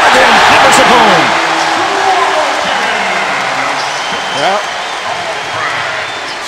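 A college basketball crowd at Mackey Arena roars after a Purdue dunk against McNeese, a loud dense cheer that slowly fades, with commentators talking over it.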